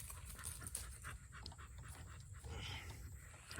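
Hard-working dogs pant in quick, steady breaths, close and fairly quiet, with no talking.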